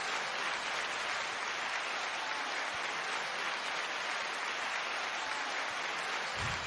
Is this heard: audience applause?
yes